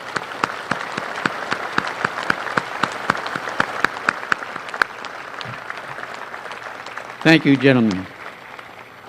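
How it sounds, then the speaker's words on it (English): Scattered applause rises at a 70th anniversary Pearl Harbor ceremony for the veterans present, sharp individual claps spaced steadily throughout, ending with someone speaking briefly close by. "a round of applause, please."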